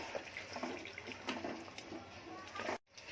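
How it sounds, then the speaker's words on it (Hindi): Water pours steadily into a pot of mutton pulao being cooked Konkani style, a soft continuous splashing that stops abruptly near the end. "ये देखो इसमें आप पानी डाल रही हूँ"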